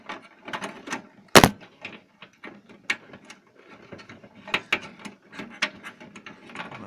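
A RAM module gets pushed into a tight slot on an old 386/486 PC motherboard, heard close up as a run of plastic clicks, scrapes and ratchety snaps with one loud crack partway through.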